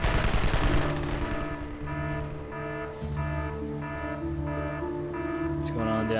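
Automatic gunfire crackles in rapid bursts in the base-building strategy video game Evil Genius, layered over a steady game music bed and ambient hum, fairly loud and continuous across the scene.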